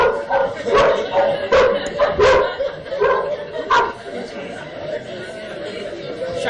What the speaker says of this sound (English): can you stop the dog from barking?